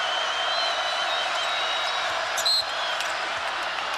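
Basketball arena crowd at a BYU Cougars home game against Bradley, a steady broad roar with a squeak of shoes on the court, heard at a distance.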